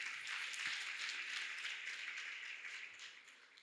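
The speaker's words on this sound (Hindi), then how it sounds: "जोरदार तालियां" Audience applause at a spiritual talk, a dense, steady round of many hands clapping that holds strong before gradually thinning toward the end, heard at a moderate distance.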